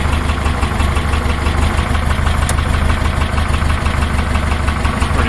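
A 1966 Porsche 912 flat-four with rebuilt carburetors idles steadily up close, a loud, even, rhythmic chugging with a faint metallic tick and no talking.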